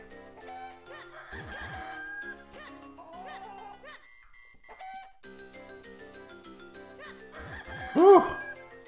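Cucco chickens from the video game Zelda: The Minish Cap, clucking and squawking in several bursts amid bright game music, with a loud squawk near the end.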